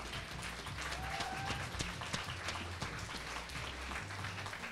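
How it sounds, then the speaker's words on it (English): An audience applauds honorable mentions at a songwriting competition in Kingston, with sustained dense clapping from a crowd at moderate distance and a faint murmur of voices. "Applause for the honorable mentions and the top 20 songs."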